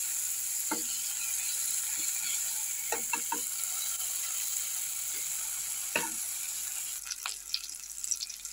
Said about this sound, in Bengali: তেলে পেঁয়াজটা টমেটো ভালো করে একটু ভেজে নিচ্ছি।